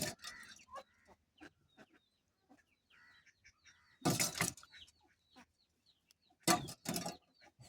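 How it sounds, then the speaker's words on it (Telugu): Newly hatched chicks cheep in short, high, scattered calls close by, broken by two loud bursts of rustling handling noise. "ఇదిగోండి కోడి పిల్లలు."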